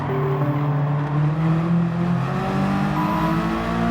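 Racing cars in Gran Turismo 7 accelerate with a steady, loud engine drone and rising revs that hold throughout without pause, with no voices over them.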